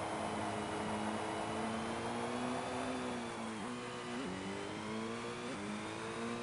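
Revving rally car engine from the Colin McRae Rally video game: a loud, continuous, close engine whine that rises and falls through several gear shifts, heard alone without voices.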